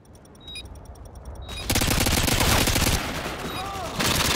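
Rapid automatic gunfire from a Call of Duty: Modern Warfare 2 match on the Afghan map bursts in sharply and runs dense and loud, after a quieter opening with faint ticking, with a brief voice in the background.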